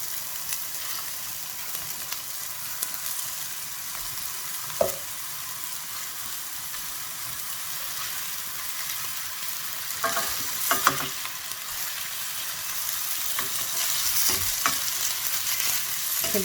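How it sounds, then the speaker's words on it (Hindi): Galawati kebabs frying in a little oil over medium heat in a pan for an Eid dish, a steady soft sizzle running throughout with a few brief clinks and stirring knocks, no one talking. "थोड़ी सी मीडियम आंच पे हम इसको फ्राई कर लेंगे"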